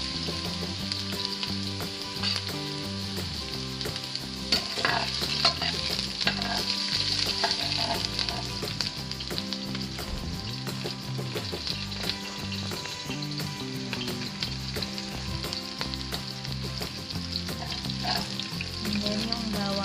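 Ginger sizzles loudly in hot cooking oil for chicken tinola, a continuous crackling fry with stirring and scraping throughout, close and steady with no talking.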